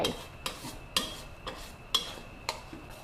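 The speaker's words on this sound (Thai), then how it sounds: "ผัดไปผัดมา สีเขาก็จะเริ่มเข้มขึ้นแบบนี้เลย" Caramel for braised chicken wings with pickled mustard greens simmers over low heat while being stirred, with regular soft taps of a utensil against the pot about every half second over a faint bubbling hiss.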